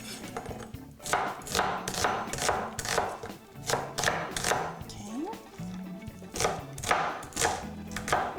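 An onion being chopped on a board, a run of close, crisp knife strokes in uneven bursts, with a pause midway and low background noise between cuts.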